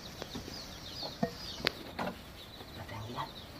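Chickens in a coop give sparse, faint clucks and short calls at a distance, a few isolated sounds over a quiet rural background.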